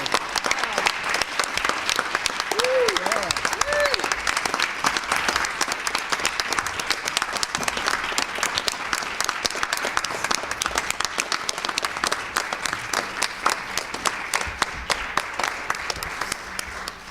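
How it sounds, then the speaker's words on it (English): Sustained, dense applause fills a school board meeting as a crowd claps for student athletes from a state champion track team, loud and continuous with a few brief voices and whistle-like calls over it. "I should just say that again and get a round of applause."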